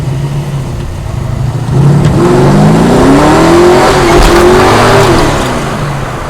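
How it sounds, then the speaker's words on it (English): A 1971 Plymouth Duster Demon accelerates around a corner, its engine rising in pitch in a strong, sustained rev that dips and climbs again, loud and close. "I'm gonna get on the gas going around this little corner here again, but she's really, really powerful"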